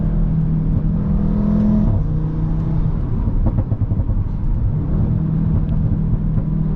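An Audi RS3 8V accelerates hard, its engine rumbling and whirring as boost builds, then holding a steady, powerful drone from close inside the car, with no talking.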